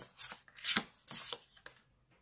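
Tarot cards shuffled by hand before a quick cross spread, heard as a few brisk, close riffling bursts separated by short pauses, with no talking.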